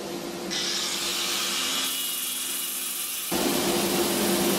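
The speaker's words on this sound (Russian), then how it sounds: "Только вот включу сейчас пылеудаление." A continuous broadband whir of a dust extractor running steadily while sanding a walnut bowl on a lathe, stepping in pitch and level partway through, with a sanding tool alongside.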